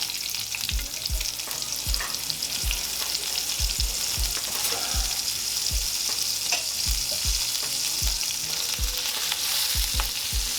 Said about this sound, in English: We're gonna go in with us about a half chopped onion.